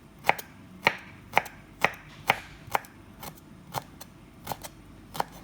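A knife chops fresh ginger into little batons on a cutting board, ten or so crisp, evenly spaced knocks about half a second apart, close and clear with no talking.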